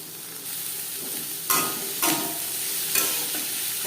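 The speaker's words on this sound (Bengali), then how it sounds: "চার পাঁচটা মিডিয়াম সাইজের পেঁয়াজ আমি কুচি করে কেটে নিয়েছি দু তিন মিনিট নাড়াচাড়া করে নেওয়ার পর" Chopped onions fry in hot oil in a wok with a steady, loud sizzle, and a spatula stirs through them in several sharp scraping strokes.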